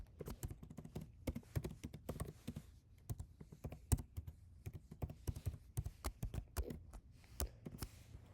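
Steady bursts of typing on a computer keyboard, close and clear, with irregular clusters of key taps and brief pauses between them.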